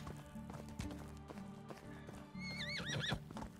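A horse in the video game Medieval Dynasty clip-clops along with steady hoof taps, then gives a clear, wavering neigh near the end, close and fairly loud.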